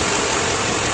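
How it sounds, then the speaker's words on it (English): Chevrolet K2500 truck engine idling steadily with a clean, continuous mechanical hum, close and even throughout with no voices. "Engine runs very smooth, started right up."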